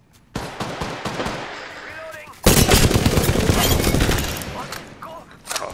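Gunfire in a video game crackles in bursts, with a sparse volley first and then a loud sustained fusillade of rapid shots that fades slightly before one last burst near the end.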